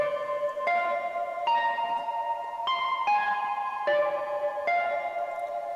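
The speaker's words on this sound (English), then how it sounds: "And then this is the other little counter melody I made." A synth counter melody from an FL Studio beat: bright, harmonically rich sustained notes step through a short tune, each held about a second, steady and close with no voice over it.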